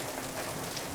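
Heavy rain falls in a steady, dense hiss, loud and continuous, with no voices.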